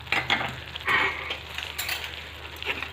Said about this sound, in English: See, the sesame seeds, that is the til seeds, are getting nicely roasted. They are actually spluttering all the way over on me